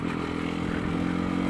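A motorcycle engine on the Rybachy Peninsula holds a steady, close, throaty drone that fills the whole short stretch without a break.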